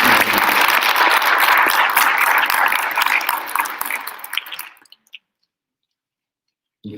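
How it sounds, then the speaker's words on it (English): Audience at a National Honor Society induction ceremony claps for the orchestra, loud and dense applause that tapers off after about five seconds into near silence before a brief return of sound. "Could we please give another round of applause to Matthew and the orchestra"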